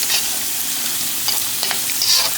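Thinly sliced sausages sizzle steadily in a hot pan, a close, continuous hiss with small pops and faint stirring scrapes.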